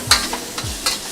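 Ground mince is stir-fried in a wok for a Sichuan dish, a spatula scraping and breaking up chunks in several quick close strokes over sizzling.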